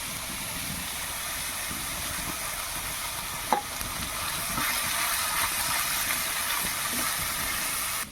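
A paste of ground fennel, cashew and ginger goes into a pan of frying onions and sizzles steadily. A brief clink of a utensil sounds midway, and the hissing grows slightly louder afterward, with no speech over it.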